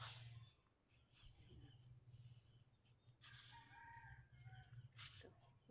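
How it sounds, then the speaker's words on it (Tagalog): Chickens cluck and a rooster crows faintly in the distance over a quiet outdoor hum, with no talking. "Ito mga manok."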